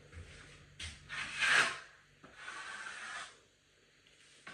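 A drywall knife spreads a thin coat of joint compound over a taped drywall repair, giving broad scraping, smearing strokes in two main passes, close up and moderately loud, with no talk.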